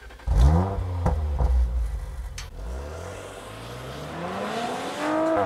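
An Audi RS4 B9, the fourth-generation model, pulls away from inside the cabin, its engine revving up loud through the gears with a sharp drop at a shift, then settling into a steady, rising drone.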